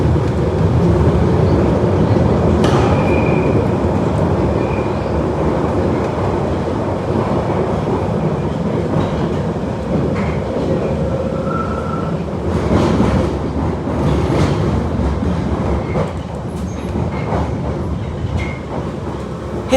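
A London Underground 1938 stock train pulls out of Lambeth North with a steady low rumble of wheels and motors. Faint rhythmic clatter and brief high squeals rise now and then over roughly twenty seconds of continuous running noise.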